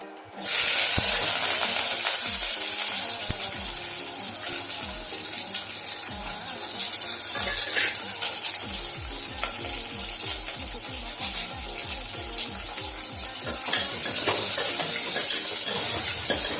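Onion, green chili and curry leaves frying in groundnut oil for a Tamil hotel-style poori masala, with a loud, steady sizzle and crackle that runs close and continuous with no talk.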